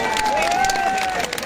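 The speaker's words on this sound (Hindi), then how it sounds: "हम तो वैसे ही इनके लिए जबरदस्त ताली बजाइए।" A crowd at a protest rally in Dehradun against unemployment and rising prices claps and cheers together, a loud dense burst of applause with a sustained whistle-like tone riding over it.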